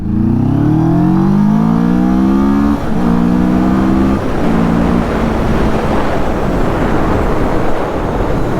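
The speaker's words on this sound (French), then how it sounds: "On va faire une petite accélération en seconde" A Mash FR750 (2025) motorcycle engine revs up steadily in second gear, its pitch climbing loud and close, then settling into a strong, rough drone as it pulls away.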